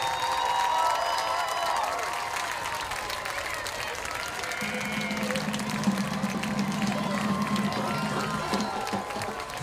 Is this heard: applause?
yes